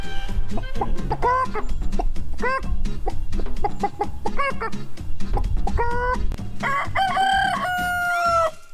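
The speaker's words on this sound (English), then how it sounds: "you'll get to know this call that they do called an egg song" Loud repeated clucking from a hen singing an egg song, rising into an excited cackle, while a rooster crows in answer toward the end.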